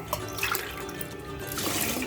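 Water is poured over jeera samba rice in a pot for chicken biryani, a close splashing and trickling pour that runs on for about two seconds.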